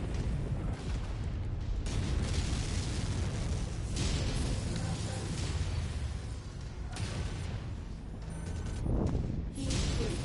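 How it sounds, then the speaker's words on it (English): Particle projection cannon lightning strikes in a mech combat video game crack and boom repeatedly, loud bursts layered over dense rumbling battle noise with heavy low-end impacts throughout. "Those lightning strikes are particle projection cannons"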